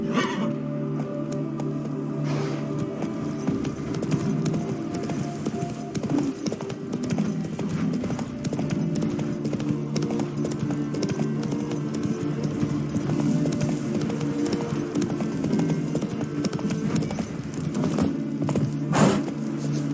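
Galloping horse hooves in The Witcher 3: Wild Hunt video game pound in a fast, steady rhythm, loud and close, with jingling tack, a brief whinny and occasional game sounds layered in.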